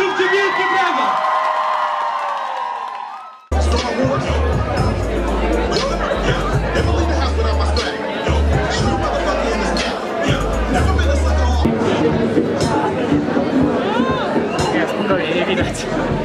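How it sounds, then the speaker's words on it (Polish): A concert crowd at a show cheers, whoops and claps in a loud continuous roar after brief amplified music, with shouting and chatter in the mix. "To był Maciej Ruszecki, zróbcie wielkie brawa!"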